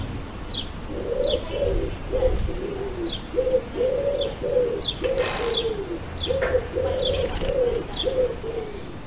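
Repeated soft cooing calls from a dove in a tree, low and rhythmic, with brighter chirps from other small birds, including sparrows and magpies, scattered overhead.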